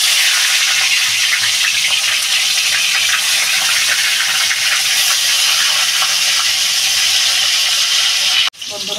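Fish dropped into hot oil for a Bengali potato and green tomato curry, giving a loud, dense, continuous sizzle and hiss that runs unbroken before cutting off sharply near the end.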